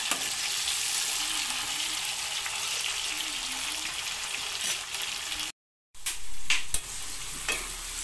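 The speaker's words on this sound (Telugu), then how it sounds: "మనము దీంట్లోకి ఈ మసాలాని మన చేపల పులుసులో పోసేసుకుందాము" Nellore-style fish curry sizzles loudly as spiced masala tempering is poured in and stirred in the pan, a steady close hiss with scraping. After a brief dropout, the frying resumes with a few sharp clinks.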